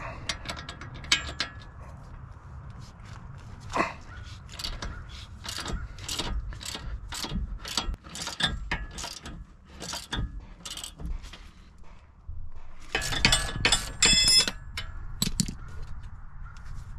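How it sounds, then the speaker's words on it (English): An 18 mm socket wrench ratchets while disconnecting a sway bar end link, making a close, steady series of clicking strokes with brief pauses and a denser burst of clicks near the end. "we're just going to use an 18 millimeter socket and a box wrench to disconnect the end link"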